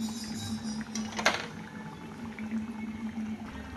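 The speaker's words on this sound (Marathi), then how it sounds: "चांगलं क्रिस्पी असं तळून घेऊया." Food frying in hot oil until crispy, a steady close bubbling sizzle with a brief louder crackle near the middle, no talking.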